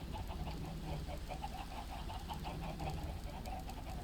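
Clucking chickens in a Minecraft-style SMP game world, a steady run of short repeated clucks and fowl calls over a dense, continuous background, with no talk.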